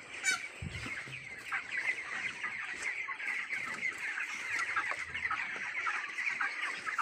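Large broiler chickens in a poultry shed cluck and chatter continuously, a dense flock sound at moderate distance with occasional louder calls.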